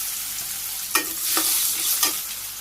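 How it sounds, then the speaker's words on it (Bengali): Potatoes fry with cumin in hot oil, hissing loudly and steadily while three distinct spatula scrapes stir the pan at regular intervals. "জিরে এসে বসতে আলু দিয়ে দিলাম। আলুগুলো প্রথমে ভাজি করে নিই।"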